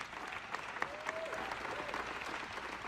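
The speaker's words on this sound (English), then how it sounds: "So let's give another round of applause for our astronauts." A crowd at a news conference applauds astronauts after a Blue Origin passenger flight, a steady, even round of clapping throughout with a faint whistle rising briefly above it.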